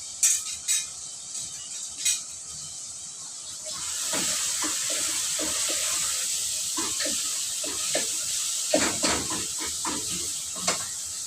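Eggplant frying in oil hisses steadily after a few sharp clinks of utensils against cookware, the sizzle rising and holding with occasional taps and scrapes, no talking.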